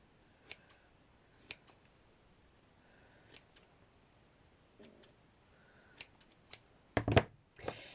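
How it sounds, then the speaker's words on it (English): Scissors trim fabric for a scarf flower, a series of crisp snips spaced about a second apart, close and clear, ending in a louder cluster of cuts. "Just trim off what you don't want. You can always trim more off if needed."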